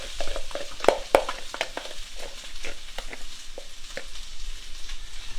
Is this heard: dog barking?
no